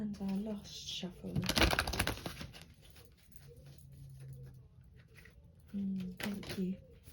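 A deck of oracle cards is shuffled by hand in short bursts of riffling and flicking, close and fairly soft, with quiet talk in between.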